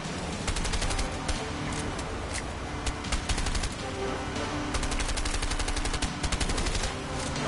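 Rapid bursts of gunfire from the video game A Way Out, dense automatic shots crackling steadily and loudly throughout, with occasional sharper single reports standing out in the barrage.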